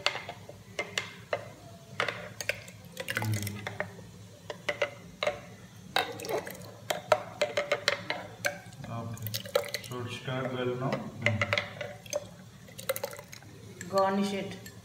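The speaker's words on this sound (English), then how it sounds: "Okay, just stir it a bit." A spoon stirring sago badami health drink with milk and sugar, giving light clinking and liquid swishes in quick irregular bursts, with a person talking over it.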